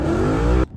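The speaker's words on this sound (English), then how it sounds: "No need to redline the RPMs, but we want some healthy revs." A car engine fitted with a flamethrower kit holds a loud, steady high rev for well over half a second, then cuts off abruptly into near silence.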